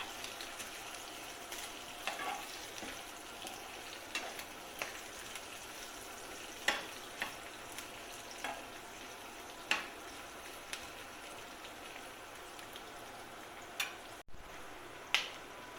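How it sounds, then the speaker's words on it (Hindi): Onions frying lightly in a pan for a chicken cheese sandwich, a faint steady sizzle broken by scattered small pops and crackles. "हम इसमें प्याज डालने जा रहे हैं। और प्याज को भी हल्का सा हमने भून लेना है।"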